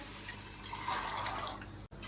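Water pours steadily into a pressure cooker holding chickpeas, a continuous close splashing rush that runs for about two seconds before cutting off abruptly.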